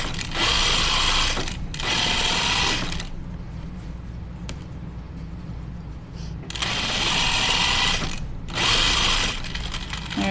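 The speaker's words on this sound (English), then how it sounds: "we're gonna sew it again from the top" A sewing machine stitching Free Range slacks: steady, motorized whirring runs that start and stop, with quieter pauses in between, close and continuous, without talk.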